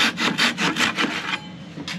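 A hand saw cuts a wood strip in a miter box for a mandola build, with about six quick, even rasping strokes close up, then a pause and one more stroke.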